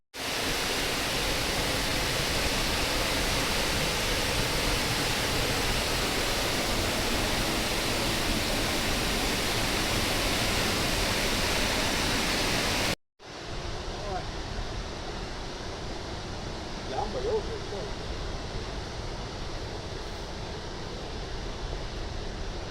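A waterfall along a river crossing pours as a loud, steady broadband rush, then cuts abruptly and resumes somewhat quieter and more distant for the remaining seconds, with no talk over it.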